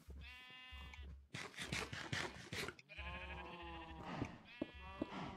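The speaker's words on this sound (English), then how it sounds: "Shut up, cows." Farm animals in a video game call out in a rapid series of loud, nasal bleating cries, several overlapping calls with brief pauses between them and no talk.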